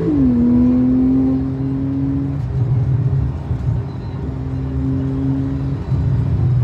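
A Techart GT Street R based on a 2012-era Porsche 991.1 driving, heard from inside as a loud, steady engine drone with a sustained tone that eases and then returns, no voices.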